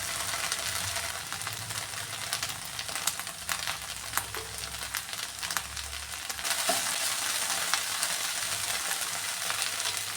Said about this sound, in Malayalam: ഇനി ഇത് നന്നായിട്ടൊന്ന് ഫ്രൈ ആക്കി എടുക്കാമേ. ഇടയ്ക്കിടയ്ക്ക് ഇങ്ങനെ ഇളക്കി കൊടുത്തുകൊണ്ടിരിക്കണം.